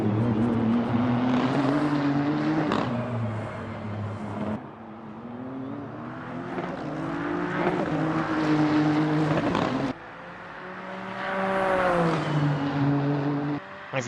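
Engine of a Nissan GT3 race car in a racing video game at Sepang, a loud steady drone with rising and falling revs through gear changes and a couple of sharp cuts, running throughout.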